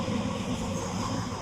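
A metro train at Tripunithura station in Kochi, a steady close rumble of running wheels and motors filling the whole span without pause or voices.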